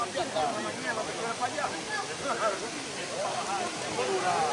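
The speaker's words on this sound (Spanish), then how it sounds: "Llegamos a la cascada, llegamos a la cascada." Steady broadband rush of the El Salto del Limón waterfall in Samaná, a constant roar filling the scene while voices talk faintly over it.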